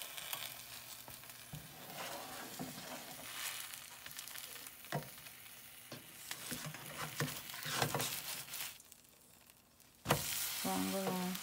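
A ham, cheese and tomato sandwich toasts in butter in a pan, giving a quiet, steady sizzle and patter broken by a few soft scrapes and clicks. Near the end a sharper burst of sizzling comes through.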